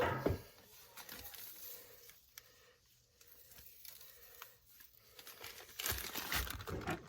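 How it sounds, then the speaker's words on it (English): Borax powder being packed into a deer skull for a skull-cap mount, heard as quiet gritty crinkling and scraping in short irregular bursts, faint and close with a slightly louder rustle near the end. "now I'm going to go ahead and pack this full of borax"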